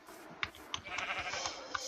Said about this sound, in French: Allez, le dernier mouton.